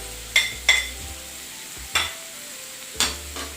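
Egg fried rice with vegetables fries in a pan under a soft sizzle, punctuated by four or five sharp clinks and scrapes of a utensil stirring against the metal, close and without talk.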